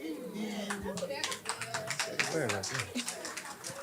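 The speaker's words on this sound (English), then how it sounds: "I feel like there should be some more claps on that one" Scattered clapping from a panel discussion audience comes through as a rapid patter of light claps beneath ongoing talking voices, moderately close and fairly soft.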